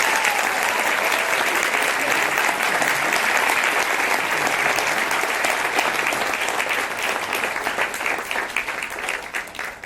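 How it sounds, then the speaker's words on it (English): Sustained applause from a large crowd at an award ceremony for Sri Sri Ravi Shankar, dense and steady clapping that fills the room, tapering slightly toward the end. "And we deserve another big round of applause."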